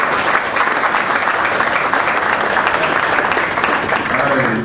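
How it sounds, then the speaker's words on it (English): Steady, loud applause from an audience at a live LA2M event, a dense wash of clapping that fills the whole stretch without pause, with crowd voices mixed in underneath. "Give him a big round of applause."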